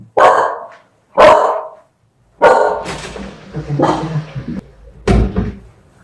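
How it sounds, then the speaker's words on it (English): A dog indoors barks loudly in sharp, separate bursts, a few single barks spaced apart and then a quicker cluster, with no other sound between them. "Oh, my dog."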